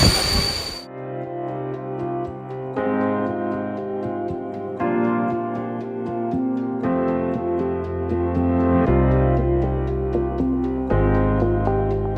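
A packed commuter train near Wrzeszcz rumbles and grinds steadily for about twelve seconds, close and loud, with shifting metallic tones and wheel noise that change in steps as it rolls past, no talking.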